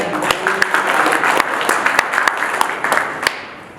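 Hearty audience clapping at an oath-taking ceremony of a cable operators' association in Udaipur, with distinct individual claps standing out over a steady wash before it fades.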